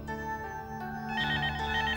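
A telephone rings loudly and close by, its tonal electronic ringtone repeating in a steady pattern with no voices over it.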